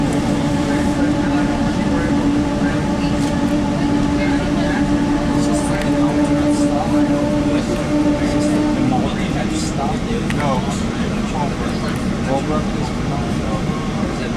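Steady loud rumble and hum of riding behind an EMD F40 diesel locomotive on a South Coast Rail passenger train, with a droning engine tone fading partway through and people talking over it.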